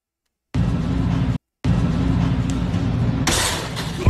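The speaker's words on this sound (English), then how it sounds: "He broke the glass." Glass shatters in a loud, sustained burst of crashing, broken off by a short gap before continuing, then a brighter high crash near the end.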